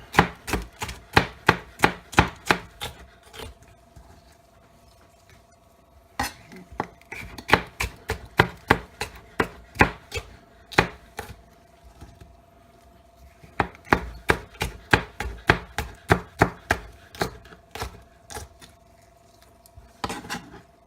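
Kitchen knife chopping bell pepper strips on a cutting board, quick rhythmic chops in bursts with short pauses between runs, close and crisp.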